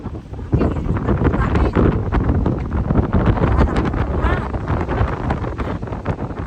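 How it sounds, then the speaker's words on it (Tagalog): Strong wind gusting across the open plaza of CKS Memorial Hall in Taipei, a loud continuous rush buffeting the microphone throughout, with faint voices underneath. "Lakas ng hangin."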